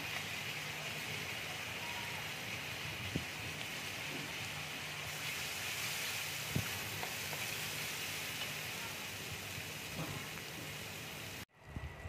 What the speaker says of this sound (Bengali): এবার মশলাটাকে ভালো করে ভেজে নেব। একটু কাশ্মীরি লঙ্কার গুঁড়ো দিয়ে দিচ্ছি।